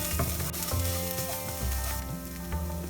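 Spiced mashed potato mixture with turmeric, Kashmiri chili powder and Bengali garam masala sizzles and fries in a pan for Kolkata egg devil, with a close, steady hiss and scraping stir strokes, with no talk.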